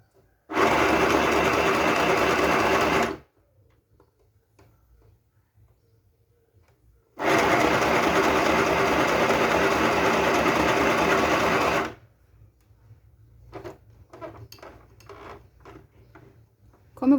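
A sewing machine stitches a second seam on a fabric bow in two loud, close, steady whirring bursts of a few seconds each, separated by silence, followed by faint clicks and handling sounds.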